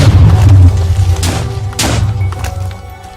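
TNT mortar shot cannon firing in Minecraft: a loud, deep boom opens, followed by two more heavy thuds about a second apart, fading slightly toward the end.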